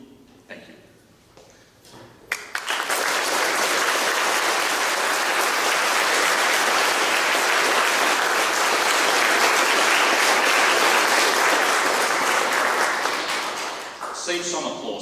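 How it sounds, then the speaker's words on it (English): After a quiet moment with a few stray claps, a large audience at an academic workshop breaks into loud, sustained applause that holds steady for over ten seconds before tapering off. "Save some applause, because you're going to applaud him several times today."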